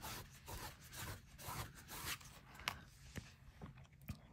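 A nail buff rubs across metal tape art, giving a soft, continuous scratchy scrubbing in quick back-and-forth strokes, faint and close with no voices.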